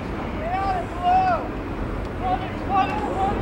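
Wind blows across an outdoor school soccer field on a gray, rain-threatening day at a boys soccer tournament, a steady low rumble with gusts beneath someone talking.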